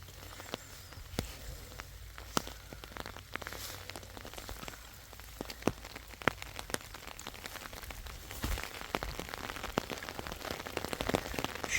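Heavy rain pours steadily during a volcanic-orange harvest in an orchard, a dense continuous patter with scattered sharp drops striking nearby surfaces, growing louder toward the end, with no talking.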